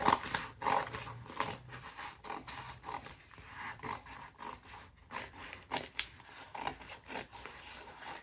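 Scissors cut out a paper bunny transfer from an IOD Kitschy transfer set, making a series of close, irregular snips and rustles of paper without talking.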